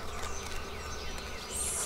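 Honeybees buzz steadily around an open beehive during an inspection of brood, drone brood and honey frames, a continuous close insect drone with a few brief high tones and no talk.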